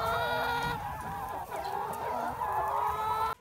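Farm chickens clucking close by, a continuous overlapping chorus of bird calls from a flock, fairly steady for a few seconds before cutting off abruptly.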